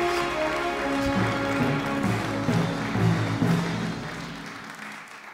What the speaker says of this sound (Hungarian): kérjék neki egy nagyon nagy tapsot természetesen